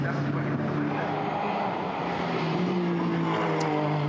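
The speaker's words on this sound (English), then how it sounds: "Maserati Gran Turismo MC, GT4 trim, wonderful engine note." A Maserati GranTurismo MC in GT4 trim races at Brands Hatch during qualifying, its engine droning steadily with a rising and falling note, loud and continuous with faint commentary underneath.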